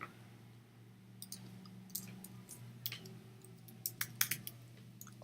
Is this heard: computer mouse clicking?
yes